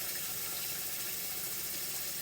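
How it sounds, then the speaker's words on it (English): Cold tap water pouring into a cooking pan of ham hocks for collard greens, a steady, even rushing hiss that holds constant throughout. "I'm putting cold water in here, and it's going to be about 1 inch above the ham hocks"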